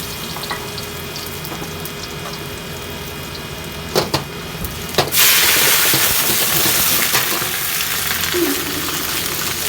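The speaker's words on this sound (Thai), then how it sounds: "จะมาผัดโป๊ยเซียนกันนะครับ" Mixed vegetables for Thai pad poy sian stir-fried in a pan, a steady crackling sizzle with a few sharp clanks early on, then a louder, denser burst of sizzling as more ingredients hit the hot oil, with no talk.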